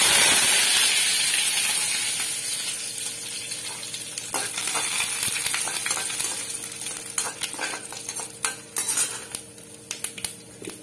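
Oil sizzling and frying in a pan on the stove, with metal spoon stirring and scraping against cookware, a steady hiss fading slightly as clinks and knocks grow more frequent toward the end; no talking.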